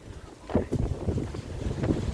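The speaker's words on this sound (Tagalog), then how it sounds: "Ayun, lakas ng hangin." Strong wind buffets the microphone in heavy, rumbling gusts, loud and close, with no voices.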